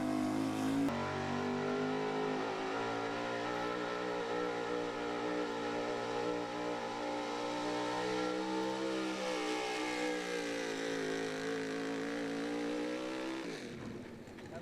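A 1976 Ford pulling truck roars at full throttle through a truck pull run, the engine holding a loud, sustained high-revving howl that climbs slightly before cutting off and winding down at the end.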